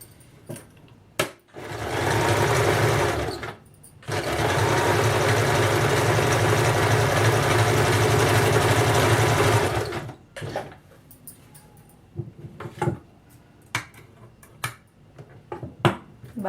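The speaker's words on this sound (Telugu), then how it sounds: "డబుల్ స్టిచ్ వేసుకోండి." Sewing machine double stitching the seam of a salwar pant with a half-inch allowance: two steady runs of a few seconds each, a short burst then a longer stretch, followed by scattered clicks and handling noises.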